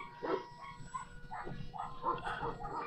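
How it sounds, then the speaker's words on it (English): Dogs barking outdoors at a distance, several brief yelps and barks scattered across a few seconds over steady background noise, with no talking. "Sorry about all the noise of dogs and..."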